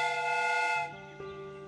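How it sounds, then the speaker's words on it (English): A steam whistle blows a steady, reedy tone that shifts pitch partway through, then carries on a little quieter until it ends. "The steam whistle is ready to be used."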